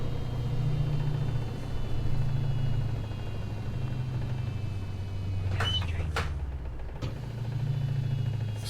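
A Peterbilt 359 truck engine in American Truck Simulator rumbles steadily and low while the rig is pulling, with a few sharp clunks and rattles breaking in midway.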